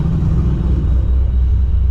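A supercharged Pontiac GTO idling through Magnaflow mufflers, producing a loud, steady low exhaust rumble with a deep, even burble and no revving, heard close and alone.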